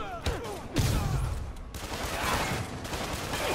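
Enemies open fire in the Spider-Man PS4 video game, unleashing bursts of rapid gunshots with sharp cracks and dense rattling volleys that continue at moderate loudness.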